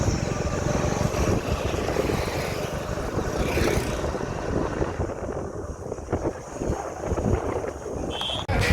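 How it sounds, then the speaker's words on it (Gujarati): Strong storm wind gusts roar continuously into an outdoor microphone near a dairy collection point in a Gujarat village, a loud, rough buffeting that barely lets up. "વાવાઝોડું જબ્બર ચાલુ થઈ ગયો વાયરો આવે"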